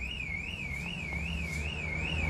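A car alarm wails in a smooth rising and falling electronic tone, repeating steadily at moderate distance over a low background rumble.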